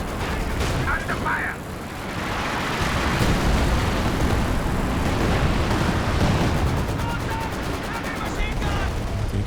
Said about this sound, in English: There goes the mortar.